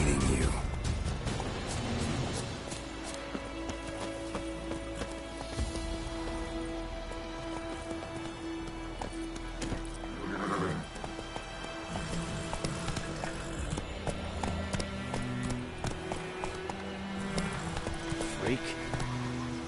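Roach, the horse in The Witcher video game, gallops with rapid, rhythmic hoof clip-clops under ongoing game noise, while spoken voices come and go over the hoofbeats.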